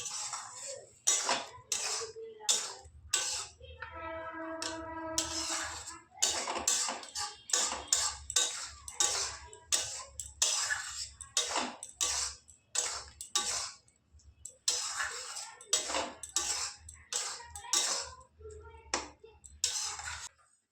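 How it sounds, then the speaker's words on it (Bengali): Khichuri in a pot is stirred with a utensil, giving repeated scraping clatters and knocks against the metal in an irregular rhythm, fairly quiet and close. "দিয়ে এবার নাড়াচাড়া করে আমি নামিয়ে নেব।"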